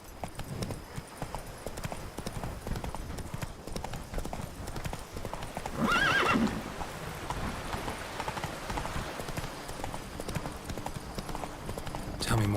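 Roach, a horse in the Witcher 3 video game, clip-clops along at a steady trot throughout, the rhythmic hoofbeats running under occasional game voices and a brief brighter burst midway.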